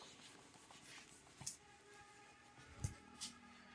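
Marker or chalk writes the definition of sets on a board, faint scratchy strokes with a few sharper taps at quiet, close range. No voice is heard.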